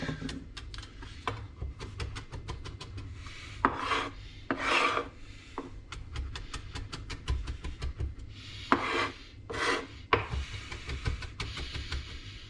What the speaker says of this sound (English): I'm just going to take this lovage and I'm going to very finely chop it